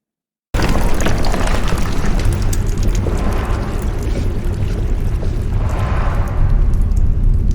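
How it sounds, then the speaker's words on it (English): Explosions as a facility blows up in Doom Eternal: a sudden loud onset of dense rumbling booms and crackling blasts that keep rolling without a break, with a brighter surge of debris noise near the end. "this place is starting to blow up, so you need to get to the chopper!"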